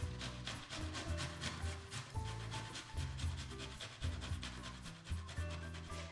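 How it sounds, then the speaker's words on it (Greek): Two garlic cloves grated on a fine grater while making meatballs, giving steady rhythmic rasping strokes over continuous background music. "Σε λεπτό τρίφτη τρίβουμε 2 σκελίδες σκόρδο."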